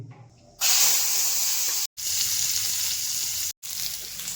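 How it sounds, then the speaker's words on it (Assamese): Fish sizzling on a hot tawa, a loud close hiss of oil that starts abruptly and continues in long bursts, broken by two brief silent gaps, with no talking. "এতিয়া আমি মাছখিনি ইয়াত খুব ধুনীয়াকৈ ভাজিম"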